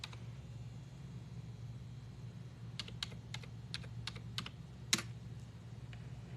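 Typing on a computer keyboard: a short run of distinct, fairly faint key clicks in an uneven rhythm over a low steady hum, ending with one louder keystroke.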